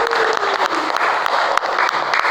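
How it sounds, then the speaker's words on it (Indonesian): A group of students applauds for group 3 at an Islamic school presentation, a loud close burst of dense clapping with a voice briefly audible in the mix. "Tepuk tangan untuk kelompok 3."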